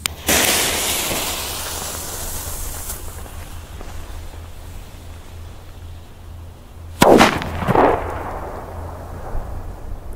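A Pyroart Dynamit Super Böller 1 firecracker with 2.5 g of flash powder goes off in one sharp, loud bang that leaves a long decaying rumble, followed later by a second burst and an echoing crackle outdoors.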